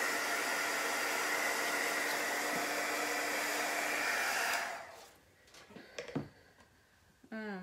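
A hair dryer blows steadily on a chalk-painted craft piece for several seconds, then cuts off, leaving faint clicks and small handling noises nearby.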